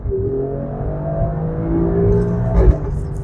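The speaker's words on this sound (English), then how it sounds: "Listen to the gear shifts." An Alfa Romeo Stelvio QV pulling away in dynamic mode, its engine droning steadily and rising under acceleration, with a brief shift-like surge near the end; no one speaks.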